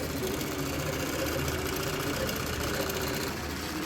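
A sewing machine stitches a football design onto a quilt, producing a steady rapid mechanical whir that runs continuously at close range.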